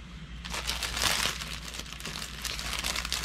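Diamond painting drills being slipped back into their envelope, close crinkling and rustling of packaging that swells midway and then keeps up in softer bursts.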